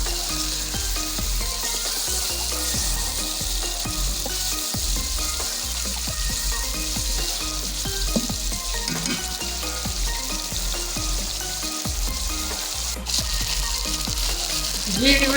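Chicken browning for Pakistani achar gosht sizzles and fries steadily in a pan, a loud, dense crackle that runs continuously with occasional stirring scrapes.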